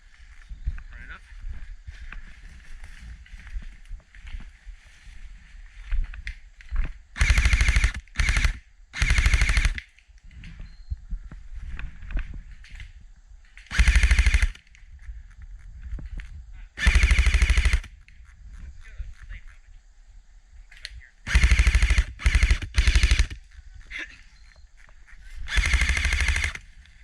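Airsoft guns fire in rapid, loud bursts during a bomb squad game on an outdoor field, with quieter stretches between volleys and players' voices heard in the background.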